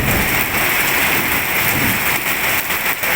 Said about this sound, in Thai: รู้แต่ว่าตอนนี้เริ่มจะ หนัก หนักขึ้นเรื่อยๆ ฟ้าแลบฟ้าร้องใหญ่เลย